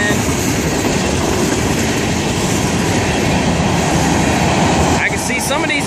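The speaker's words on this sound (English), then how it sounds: "Listen to them flat wheels, man." A Florida East Coast freight train rolls past close by with flat wheels, a loud continuous rumble with steady rhythmic clanking and wheel noise, shifting near the end as cars go by.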